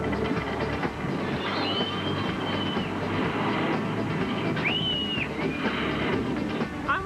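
A private VIP tour trolley riding through Universal Studios: a continuous loud rumble of wheels and motion with occasional high squeals, heard up close with no talk.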